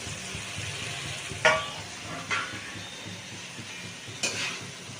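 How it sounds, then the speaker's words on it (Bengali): Bombay duck fish frying in a pan with onion and garlic, a steady soft sizzle with a few sharper stirring scrapes, close and moderately quiet, no talking. "তো দেখো লোটে মাছটা রান্না হচ্ছে।"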